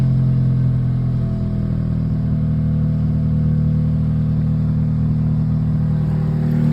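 A car engine idles after a cold start with an exhaust leak, producing a continuous close, low rumbling drone with a steady chuffing pulse and no talking.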